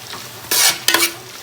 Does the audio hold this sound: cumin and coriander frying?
yes